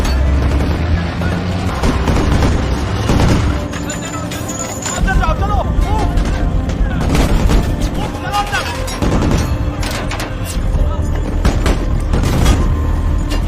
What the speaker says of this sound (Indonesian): setelah mendapatkan instruksi dari Masruri, seluruh pasukan cepat tanggap maju serentak dan baku tembak pun kembali terjadi.